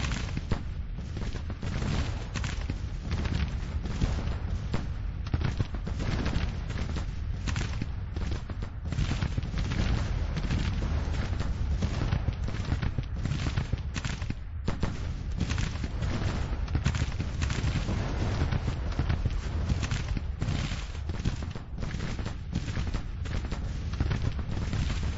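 Musket volleys and artillery in a battle from Grand Tactician, a continuous, steady roar of massed fire that blurs into a dense rumbling wash lasting throughout, fairly even in loudness, with no voices.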